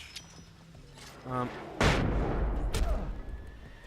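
Machine gun fire in Alan Wake's American Nightmare comes as a loud burst of shots after a short mechanical rattle, with a raised tone in the game's sound around it.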